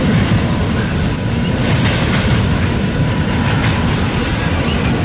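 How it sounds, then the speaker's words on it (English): Union Pacific freight train rolling past near Fremont, a loud continuous rumble of wheels on rails with a faint metallic squeal, steady throughout. "Finally, some Union Pacific traffic."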